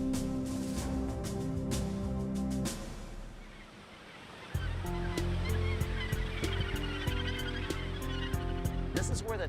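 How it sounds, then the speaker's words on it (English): Harsh honking calls from a colony of Australasian gannets on the New Zealand coast overlap continuously, with a rushing background and a brief quieter lull midway. "hundreds and hundreds of Australasian gannets come to nest."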